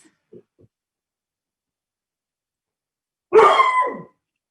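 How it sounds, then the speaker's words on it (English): After a quiet stretch with a couple of faint knocks, one dog bark sounds near and clear, short and sharp with a trailing yelp, then silence. "Sorry about my dog."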